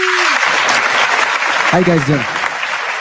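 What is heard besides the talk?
audience applause for a DJ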